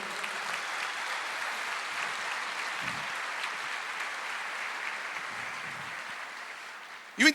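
A church congregation claps together for God during a sermon, a continuous even wash of applause from a crowd, fairly distant and sustained, ending with a sharp close knock.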